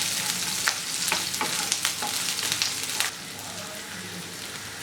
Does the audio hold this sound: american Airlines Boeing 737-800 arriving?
no